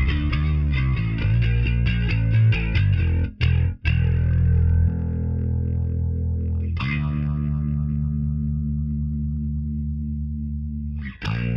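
Electric guitar played through a Line 6 POD Express with flanger and distortion, a quick run of picked notes, a few abrupt muted stops, then two long ringing chords left to sustain, loud and close with no talking.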